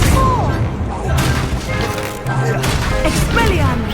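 Accio summoning spell cast in the Hogwarts Legacy video game during a duel: loud magical whooshes, thuds and booming impacts with shimmering tones, layered among other spell effects and game voices.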